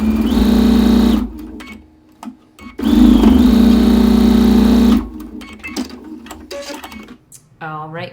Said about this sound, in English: Okay, so now it's just time to sew these 2 rows together.